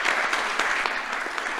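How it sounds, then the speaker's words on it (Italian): Dense crowd applause, close and steady, with many hands clapping at once. "un bel applauso perché naturalmente merita"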